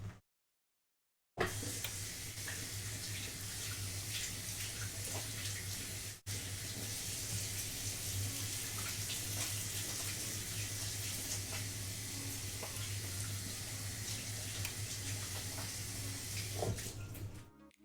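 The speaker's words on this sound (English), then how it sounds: "So we wash hands." Hands are washed under a running kitchen tap: water gushes in a steady splashing stream after a brief silence, with a short break partway through.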